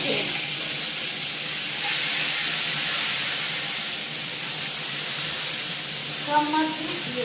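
Katla fish pieces dropped into hot oil in a kadai, a steady loud sizzle and hiss carrying on without a break, with a few faint clinks near the end.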